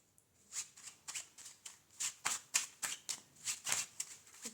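Tarot cards being shuffled by hand, a quick run of about a dozen crisp riffling bursts in steady rhythm, close and fairly soft with no talking.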